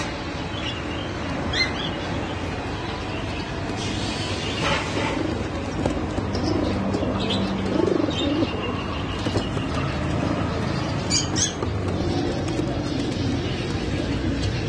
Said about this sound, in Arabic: هذني حمام بطريق